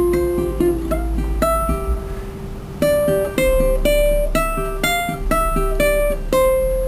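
A ukulele plays the rock guitar riff of a song, short repeated notes with a few sustained ones, bright and close, with no voices.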